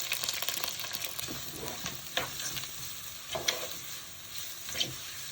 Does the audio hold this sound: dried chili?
yes